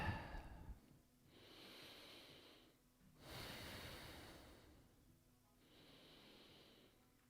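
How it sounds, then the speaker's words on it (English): Slow, deep breathing during a yoga pose: two full audible breath cycles, each a long airy inhale and exhale close to the microphone, steady and unhurried with quiet pauses between. "2 breaths here."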